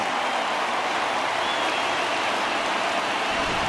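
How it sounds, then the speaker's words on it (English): A home stadium crowd in MLB The Show 20 roars after a home run in the bottom of the eighth, a dense, unbroken wall of cheering at steady volume. "the home crowd has really come to life here in the bottom of the 8th"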